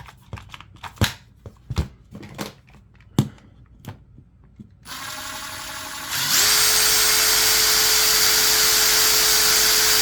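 A cordless impact driver runs at no load: after a few scattered clicks and handling knocks, the motor starts up and climbs to a loud, steady, high whine that continues to the end.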